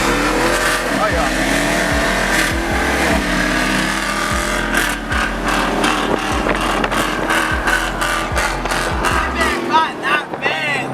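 A muscle car roars off in a street race in the city, its engine revving hard through a run of quick gear shifts as it accelerates, loud and close throughout.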